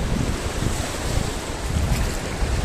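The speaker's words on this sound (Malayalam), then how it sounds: "ആ അവിടെ തിരമാല ഉണ്ട്" Steady rushing ocean surf at the seashore with wind buffeting the microphone, a dense continuous roar without talk.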